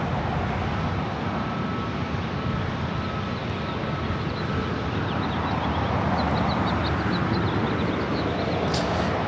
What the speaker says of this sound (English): Next arrival is Delta Airlines Flight 2766, coming from Vegas on a 737-800